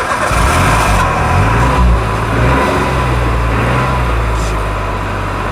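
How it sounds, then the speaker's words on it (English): A Metro car's engine running loud and close, a steady rumbling drone with slight shifts in pitch as it revs, with no talking over it. "Now listen to this engine."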